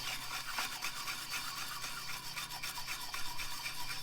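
A grafting knife blade being sharpened on sandpaper makes a steady, close, dry rasping scrape with short repeated strokes throughout, with no voices.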